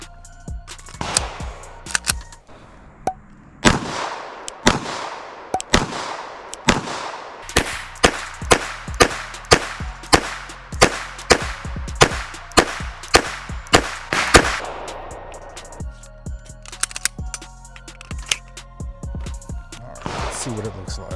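Pistol fired in sharp, loud single shots spread across a final magazine, with irregular spacing and a few quicker strings, ringing out with clear gaps between them.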